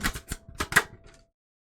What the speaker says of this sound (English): These cards are so hard to shuffle sometimes.